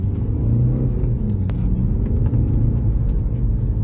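A TDI 130 diesel car with about half a million kilometres picks up speed on a road test, a loud, close, steady engine rumble heard from inside the cabin, continuous throughout with a brief click near the middle.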